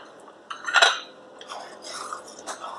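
A spoon stirs chana dal sabudana kheer with fried raisins and cashews in a pot, giving light metallic clinks and scrapes in a few irregular bursts, close and fairly soft.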